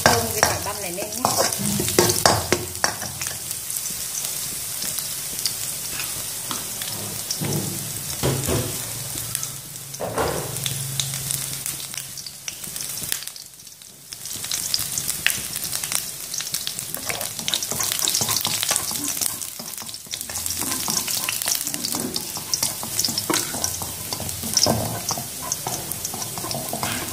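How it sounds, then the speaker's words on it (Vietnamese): Minced garlic fries in hot cooking oil in a pan while being stirred, making a steady loud sizzle throughout, with scraping strokes of the utensil and a brief dip in the frying noise midway. "Mình phi thơm cái tỏi băm này lên nhé."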